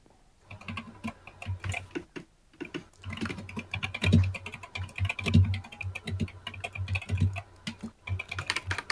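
A computer keyboard is pounded hard and fast, with dense, loud clattering keystrokes and heavy thumps coming in irregular flurries with brief pauses, close and continuous throughout.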